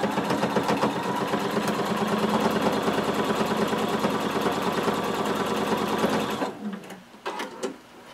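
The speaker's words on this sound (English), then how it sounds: "we're going to sew along our dart leg, and then we're going to sew completely off of our fabric without back stitching at that tip" A sewing machine stitches along a fabric dart in a steady, rapid, loud run of needle strokes, then stops abruptly near the end, leaving faint handling noise.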